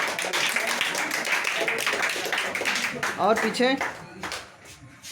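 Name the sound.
children clapping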